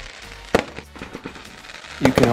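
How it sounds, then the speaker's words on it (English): Sharp firework bangs burst out, one near the start and a denser cluster at the end, with softer crackles and pops scattered in between. "This setting will set a firework display"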